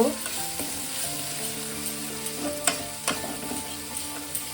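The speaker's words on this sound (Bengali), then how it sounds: "আর ধনিয়ার গুঁড়ো 1 চামচ দিয়ে আমি আবারও ভালো করে মশলাটাকে কষিয়ে নেব।" Spice paste with a spoonful of coriander powder sautés in a pan, a low, steady sizzle broken by several sharp scrapes and knocks of a spoon stirring against the metal, close and clear.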